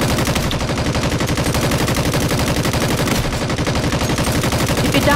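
Rapid, sustained automatic gunfire from enemies in a Warzone battle royale match, loud and continuous machine-gun fire with no pause.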